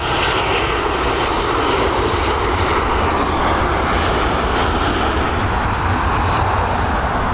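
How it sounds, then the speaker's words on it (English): A Boeing 737 jet arrives at Dublin Airport with a loud, steady engine roar that holds unbroken throughout and stays close and dominant. "Nice 737 coming in."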